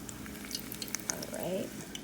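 Pieces of kabocha squash tempura drop into hot deep-frying oil, giving a quiet bubbling sizzle dotted with sharp little crackles and pops that briefly swell.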